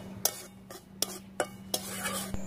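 Spoon scraping and tapping in a pan while semolina fries in oil, several sharp clinks at a steady pace over a faint low hum.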